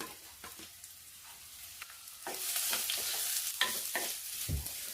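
Onions (savala) sauté in a pan with ginger and green chillies, starting with faint stirring scrapes and turning into a louder, steady sizzle with occasional utensil knocks, with no talk.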